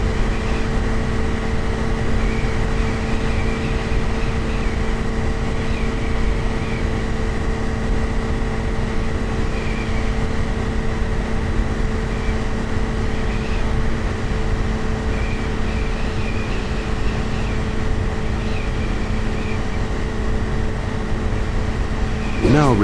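Steady, loud drone of a light aircraft engine in level flight in Microsoft Flight Simulator X, an unbroken hum with tonal whine that never changes, heard alone throughout.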